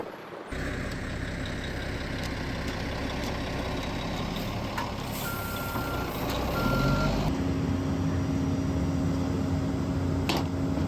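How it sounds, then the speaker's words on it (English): A concrete truck idles nearby while its reversing alarm beeps steadily and repeatedly, the engine rumble rising toward the end. "I think I hear the concrete truck."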